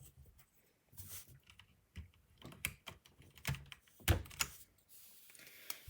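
New keycaps pressed one at a time onto a keyboard with brown switches, giving irregular close-up clicks and plastic snaps with soft thuds between them, with no talking.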